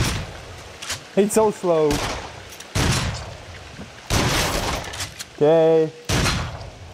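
Shotgun blasts in the Until Dawn: Rush of Blood VR game, several loud sharp bursts with a few seconds between them, with a person talking and exclaiming in the gaps.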